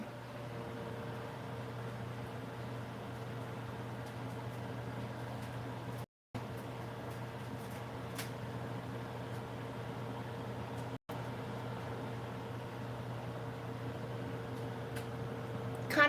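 A microwave oven runs steadily while heating food, a constant close hum with a faint fan whir, briefly cutting out twice, with no talking.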